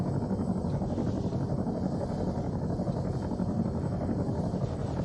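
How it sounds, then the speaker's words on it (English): A helicopter, heard from a military training aircraft, gives a steady, loud rotor and engine drone that holds evenly throughout with slight wind roar. "Be advised, we have a helicopter going through there."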